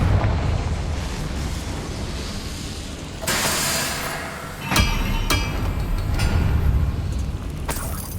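A Confringo fire spell explodes in the Hogwarts Legacy video game, with a sudden broadband burst followed by sharp blasts and cracks over a steady rumbling game soundscape.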